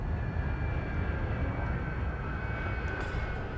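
A Lakon Type-9 ship engine in Elite: Dangerous holds a steady, even drone throughout, a low rumbling hum with a faint high whine that shows no clear drop in level.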